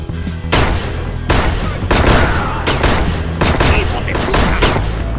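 Rapid gunfire from the video game Six Guns, loud bursts and repeated shots cracking close by across the whole stretch, with a few sharp single reports standing out.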